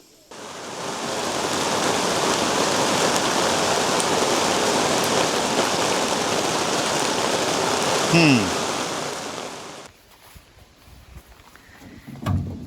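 A heavy rain downpour falls on an outdoor building site where a foundation is being poured. The rain is a loud, steady wash that stops abruptly near the end and leaves faint ambience behind.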